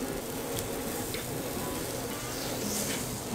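Spicy chicken pieces sizzle on a grill over coals, giving a steady, close crackling hiss that holds constant with no talking.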